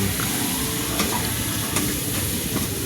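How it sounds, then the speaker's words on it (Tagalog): Squash cubes sautéing in a pan for ginisang kalabasa, a steady close sizzle and crackle of frying with a few sharp scraping clicks of a spoon stirring through the pieces. "lagay ko na yung kalabasa. Ito na. Haluin ko lang"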